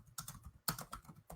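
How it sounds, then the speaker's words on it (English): Someone types on a computer keyboard in a quiet room, giving a short run of light, uneven clicking keystrokes close to the microphone. "there's typing."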